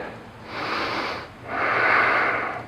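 Two slow, deep breaths drawn and pushed out through the nose and mouth during a Turkish getup exercise, close and audible, with a brief pause between them and no talk.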